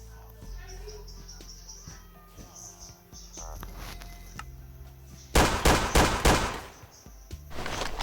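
Gunfire from a Taurus PT 92 pistol in a Minecraft gun mod: a quick cluster of sharp, loud shots in the latter part, following a quieter stretch of low game ambience.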